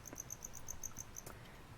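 Crickets chirp inside a breeding container holding thirty to a hundred insects, a rapid regular series of bright pulses repeating close and clear over a quiet hum, with a short scratchy rustle near the end.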